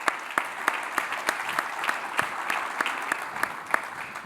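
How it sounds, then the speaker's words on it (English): Sparse, fairly quiet applause at a business event welcoming a speaker, with a few individual claps standing out in an irregular rhythm across a modest audience. "Let's give him a warm welcome and a round of applause"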